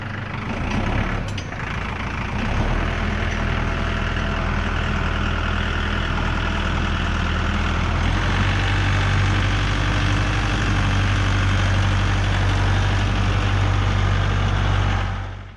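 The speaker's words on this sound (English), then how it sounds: "I'm gonna be safe on the tractor." A tractor engine runs steadily on an off-grid homestead, a loud, continuous low idle-like drone with a slight shift in pitch partway through and no talking over it.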